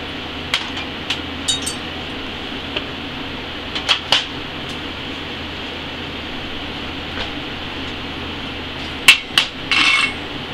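Sharp metallic taps ring out in scattered clusters, a hammer chipping hard slag off a 2G stick (SMAW) weld, with a faint steady hum underneath and a quick burst near the end.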